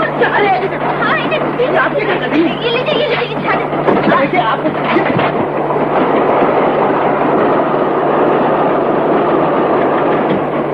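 Old film scene of a train rolling along with steady clickety-clack and rumble, heavy and continuous throughout, with faint background chatter from passengers mixed in.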